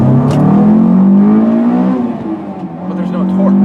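A Honda S2000 AP1 sports car engine revs hard and climbs toward its 9,000 RPM redline, eases off briefly, then builds again; loud and close, a steady mechanical roar.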